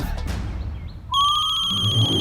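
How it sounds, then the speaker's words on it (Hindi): A telephone rings in a home setting, a bright sustained electronic ringtone with steady harmonic tones that starts abruptly after a stretch of quiet room noise and continues loudly to the end. "फोन है।"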